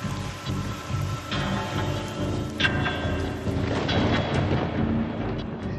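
Steady heavy downpour in Alipurduar with a dense hiss, low rumbling underneath and occasional louder splashes, continuous throughout with no voices.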